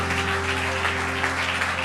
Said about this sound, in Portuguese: Dê uma salva de palmas ao Senhor em nome de Jesus